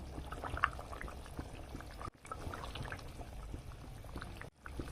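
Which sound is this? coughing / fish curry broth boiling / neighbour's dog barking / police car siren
fish curry broth boiling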